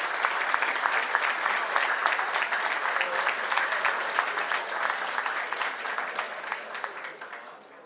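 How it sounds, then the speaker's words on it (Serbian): Audience applause rings out at an anniversary celebration for Patrola 015 in Loznica, a dense, steady clapping from a large crowd that holds for about eight seconds before tapering slightly at the end. "ajmo jedan veliki aplauz za našeg najvećeg gosta Loznice"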